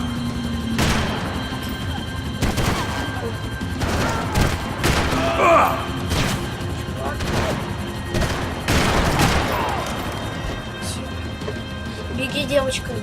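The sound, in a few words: gunfire in Max Payne 3 video game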